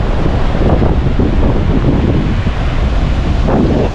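Strong wind buffets the microphone on the seashore at Harihareshwar, with waves rumbling and washing in beneath a loud, continuous roar and no voices.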